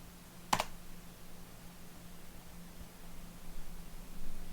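A single sharp keystroke on a computer keyboard while compiling an application with make, one brief click near the start over a steady low hum and faint background noise.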